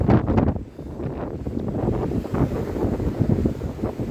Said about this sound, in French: le vent, les éléments.